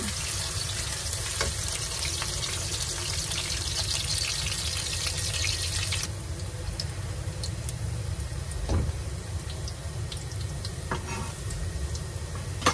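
Oil sizzles and crackles in a pan while pansit is cooked, a steady close frying hiss that runs throughout and drops slightly in brightness partway through, with occasional small clinks and no talking.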